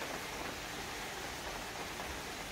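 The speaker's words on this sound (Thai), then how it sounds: "พอน้ำถึงขีดนะครับก็ฝนตกพอดี" Rain falls steadily outdoors, an even, dense wash of hiss with no breaks or distinct drops standing out, constant in loudness throughout.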